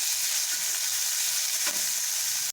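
Steady, loud sizzling of chopped onion frying in hot oil, a continuous crackling hiss with a brief stir midway, cutting off abruptly at the end.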